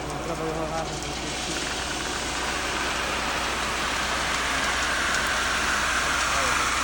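Fresh concrete pours down a long suspended chute on a house construction site, a steady loud wet rushing wash that holds for the whole stretch with a low engine rumble beneath.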